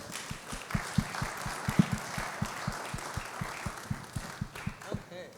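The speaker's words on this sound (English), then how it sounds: "Please clap for them as they're coming up." An audience at a marriage conference claps in a slow, steady rhythm as a couple walks up, the regular hand claps standing out clearly over a softer wash of crowd applause.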